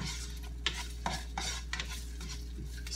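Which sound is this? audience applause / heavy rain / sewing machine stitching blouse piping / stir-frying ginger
stir-frying ginger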